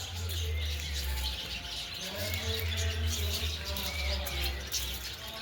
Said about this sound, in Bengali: এই বাগানের ভেতরে ওখানে পাখি আছে অনেক।